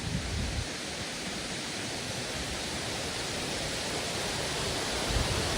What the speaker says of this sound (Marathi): इकडे बघा, लहान पण अतिशय सुंदर धबधबा आहे.